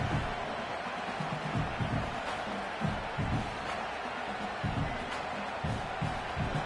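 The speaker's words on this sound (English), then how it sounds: "this crowd trying to give its defense some energy in a clutch spot" A football stadium crowd roars steadily to energize its defense at Indiana vs Clemson, a broad, distant wall of cheering with rhythmic surges.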